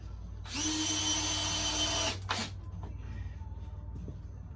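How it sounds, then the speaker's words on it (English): A power drill drives screws into wooden stair framing. It whines loudly and steadily for about a second and a half, stops, and gives one short burst. Faint workshop noise sits under it. "Now I can put a few screws before it takes that off. I'm going to put a couple in through here."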